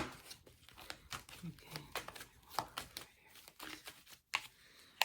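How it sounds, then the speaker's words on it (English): Tarot cards being shuffled by hand, a run of quick crisp riffling and flicking bursts close up, with a person talking softly in between. "I'm just shuffling for right now"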